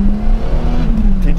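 A Toyota Supra's 3.0-litre six-cylinder engine revs close by with a loud, smooth drone whose pitch rises slightly and then settles over a brief moment.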